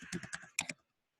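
A word is typed on a computer keyboard: about eight quick, close, clicky keystrokes in an uneven run, then silence.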